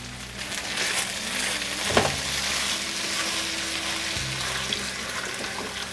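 Beef broth pours into a hot pan of turkey stroganoff, giving a steady watery rush and sizzle that holds for several seconds.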